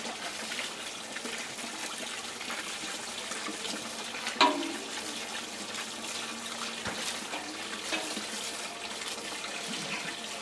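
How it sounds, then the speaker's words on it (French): Water runs steadily from a hose or tap while plants, including a tetradone, are watered in a greenhouse during a heatwave, a soft continuous trickle with one brief knock midway and no talking. "Alors en même temps on arrose aussi le tétradone."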